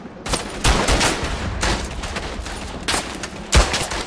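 Gunfire from the Verdun video game: repeated volleys of rifle and machine-gun shots in bursts, loud and close, with a sharp crack near the end and no talking.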